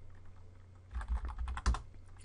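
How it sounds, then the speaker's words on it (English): Typing on a computer keyboard: a short run of quiet, close clicking keystrokes, alone with no voices. "Then we're just going to type exploit."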